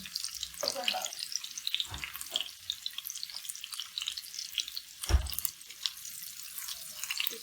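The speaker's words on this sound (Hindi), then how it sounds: "इसमें जो चिकन बोनलेस हमारा वो इसमें डाल देना और इसको फ्राई करना है" Boneless chicken frying in a pan with two or three chopped green chillies for spicy chicken macaroni; a steady crackling sizzle with a few soft clunks and stirring knocks, close and moderately loud, with no talking.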